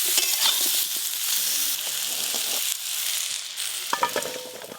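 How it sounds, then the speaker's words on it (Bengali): Young jackfruit pieces fry in hot oil in a home kitchen, giving a steady close sizzle with occasional stirring clatter and a couple of brief utensil knocks near the end. "খুব ভালো করে ভাজা হয়ে গেছে, এবার ঢেলে নেবো"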